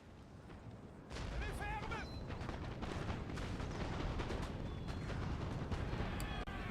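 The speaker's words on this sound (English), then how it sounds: "His cavalry unit is being decimated by artillery fire" Artillery fire in the video game Napoleon: Total War at the Battle of Waterloo: dense, rolling booms and rumbling blasts run continuously at a distance, with a narrator talking over the top.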